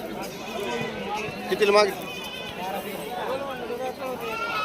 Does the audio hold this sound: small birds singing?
no